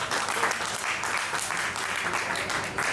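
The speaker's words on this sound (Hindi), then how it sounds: "एक बार मैं चाहूंगा उनके लिए जोरदार तालियां बजाएं" An audience at a badminton championship event in Gorakhpur gives steady, dense applause, a continuous wash of clapping throughout.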